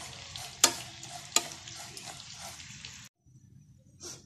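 Broken wheat dry-roasts in a pan over medium flame, a soft dry rustling and scraping as it is stirred, with two sharp spoon knocks against the pan and a brief pause near the end.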